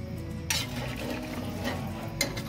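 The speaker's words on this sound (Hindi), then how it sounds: "अब मैं इसमें ये आटा डालूंगी, जितना आपको ग्रेवी चाहिए उसके हिसाब से इसको डालते जाएंगे, चलाते जाएंगे" Flour is stirred into hot oil in a cooking pot for nihari gravy, a steady soft scraping and sizzling texture with a couple of sharper spoon scrapes against the metal.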